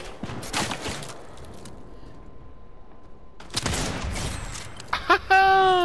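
Gunfire in the Fortnite video game, a headshot landing amid a few sharp broadband bursts early on and again after a quiet stretch, with game effects and chatter from players mixed in.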